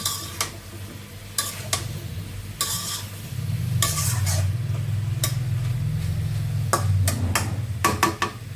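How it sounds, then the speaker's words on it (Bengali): Curry vegetables sautéed with spices in a pot, stirred with repeated scraping strokes over a low, steady sizzle that grows slightly fuller midway. "শেষ তরকারি দিছি আর মশলার সঙ্গে কষিয়ে নেব"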